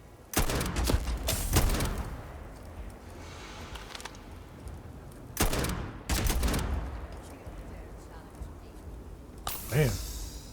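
Gunfire in Starfield on Survival, several loud sharp shots in two or three bursts with quiet gaps between them, ending in a softer trailing noise.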